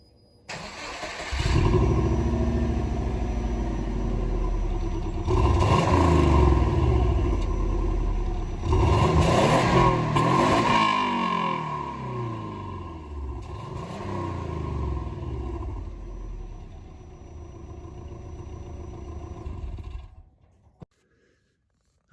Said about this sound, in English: we'll just go ahead and do us a quick rev of the stock exhaust